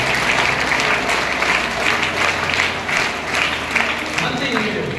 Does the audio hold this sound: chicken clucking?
no